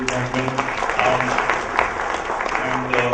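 Audience applause after a talk at an HMBP 2011 event, a sustained, dense round of clapping filling the room at steady loudness, with some talking mixed in.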